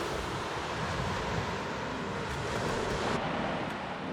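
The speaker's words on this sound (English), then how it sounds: "Have a look at the water now." Steady surf washing onto a beach near South Mandurah on the west coast of Australia, seen from a rooftop-tent campsite, a constant broadband roar mixed with wind buffeting the microphone, with no talking.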